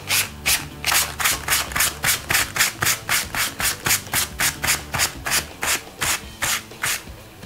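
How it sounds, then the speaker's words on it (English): Fine-grit sandpaper rubbed in one direction over a chalky ultra-matte painted surface to distress it, about twenty even, rhythmic rasping strokes close up and alone. "I'm gonna distress it just a little bit with sandpaper"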